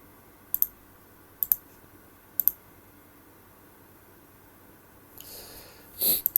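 A computer mouse clicks in quick double clicks, three crisp pairs spaced about a second apart, then a brief rustle and two more clicks, close and quiet with no talk.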